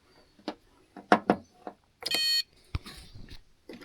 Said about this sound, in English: Making a beeping sound anyway.